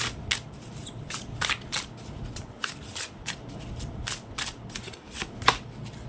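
Tarot cards being shuffled by hand in a steady run of crisp riffling bursts and soft flicks, close and fairly quiet with no talking over them.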